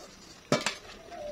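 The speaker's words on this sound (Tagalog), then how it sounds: "Saka natin ilagay ang sayote at ang sitaw." Chayote and string beans go into a pot of cooking chicken with two quick metallic clinks close together, then a quiet pot background with no talking.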